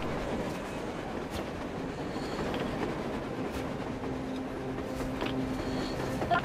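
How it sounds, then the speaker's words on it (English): A train rumbles past in the post-apocalyptic shooter Metro Exodus, a steady broad roar with faint wheel clatter and occasional metallic squeals, continuous and fairly loud throughout. "A train! A damn train on the surface!"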